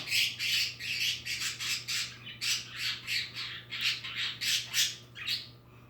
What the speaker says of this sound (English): Listen to the bird. She's pissed off.